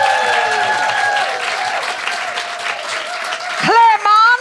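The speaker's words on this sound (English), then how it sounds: "I just would like to say a huge, huge round of applause for Julia Rowland." An audience applauds at a live podcast recording at the Museum of Comedy in London: loud, continuous clapping mixed with sustained tones and a rising sweep near the end.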